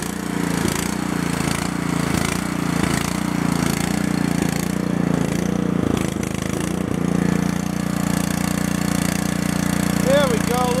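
An engine idles roughly while warming up, giving a loud, continuous low drone with a slightly uneven pulse that holds steady throughout.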